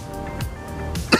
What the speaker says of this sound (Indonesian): ini saya lagi lebih sering batuk nih ya